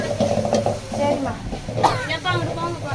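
Pepper rasam being cooked, with a utensil stirring and scraping in a pan over steady sizzling, close and continuous for a few seconds, with faint voices in the kitchen.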